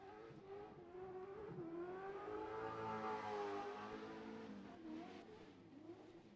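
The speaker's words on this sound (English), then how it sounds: "This is a sweet sounding V8." A Holden VC Commodore V8 race car at a historic revival race meeting accelerates past, its engine note rising and falling as it sweeps by at a moderate distance.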